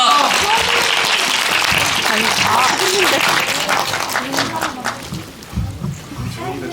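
Audience applause at a movie theater stage greeting for the Korean film Firefighters at Hongdae CGV, a dense, loud clapping that fills the room, then thins and grows uneven toward the end as it fades, with faint voices mixed in.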